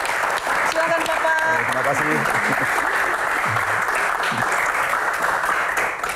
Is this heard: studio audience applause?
yes